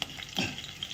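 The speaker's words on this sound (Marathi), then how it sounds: "आणि कडक फोडणी झालेली आहे." Hot oil tempering (phodni) sizzles sharply in a pan, a loud, close crackle over a short burst.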